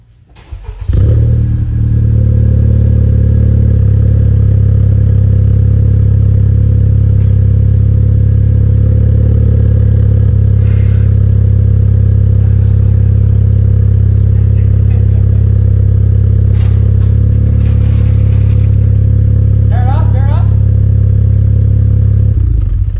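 A Honda Civic Type R FK8 fitted with a Spoon N1 exhaust starts up and settles into a loud, steady, deep idle close by, a continuous rumble with faint clicks and clatter over it and no talk.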